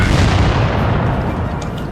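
A tank cannon fires in World of Tanks, one loud, close boom that stays heavy and rumbling as it rolls on through the short moment, with no voice over it.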